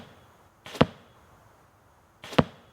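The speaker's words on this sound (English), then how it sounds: "First, here are 3 shots with the same arrow using a" Two sharp crossbow shots from a Hickory Creek vertical crossbow, each arrow fitted with a 125 grain field point. The loud snapping releases come about a second and a half apart, with quiet between them.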